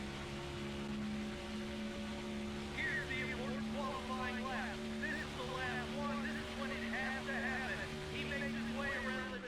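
A high-revving race car engine in NASCAR Thunder 2004 climbs steadily in pitch toward 9,000 rpm, whining continuously with faint chatter layered over it.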